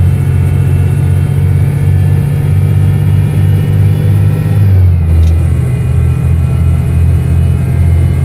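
A heavy truck engine in Euro Truck Simulator 2 drones loud and steady with strong low rumble, its pitch shifting as RPM changes partway through, giving an uneven, slightly strained rev.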